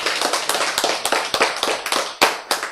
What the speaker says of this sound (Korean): 하나님을 향해 박수